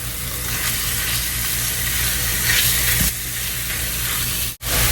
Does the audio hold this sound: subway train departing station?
no